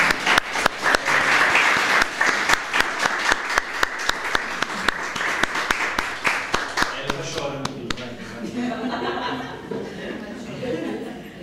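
An audience at a spiritual self-love talk applauds a couple, with dense, steady clapping for about seven seconds before it thins out and gives way to voices.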